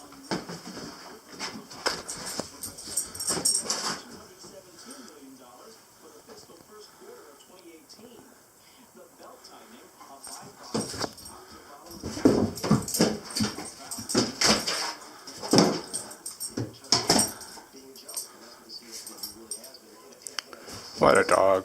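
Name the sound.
dog whimpering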